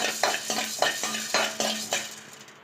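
Small crackles and pops from spices frying for curry leaf powder repeat in quick bursts, with faint metallic clinks of a utensil against the pan, close and fairly quiet.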